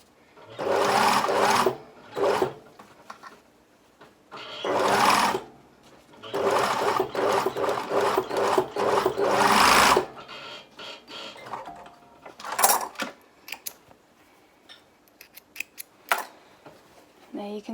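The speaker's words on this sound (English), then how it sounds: "I'm just going to sew the dart." A sewing machine stitches a dart in fabric, running in several loud close bursts of rapid mechanical whirring with brief pauses and small handling clicks between them.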